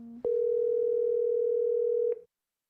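A steady electronic phone tone holds for about two seconds after a brief lower tone, then cuts off into silence; no voices.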